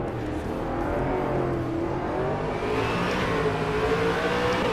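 A race car engine at Bathurst in rFactor 2 revs and accelerates, its pitch climbing steadily in a continuous loud drone with no talking.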